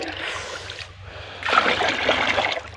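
Water pouring and splashing during a Kannada water-filling festival ritual before Diwali, a soft trickle that swells into a louder splashing flow midway, close by.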